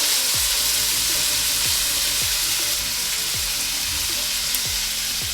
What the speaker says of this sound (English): What I'm about to do now is just to stir fry the vegetable.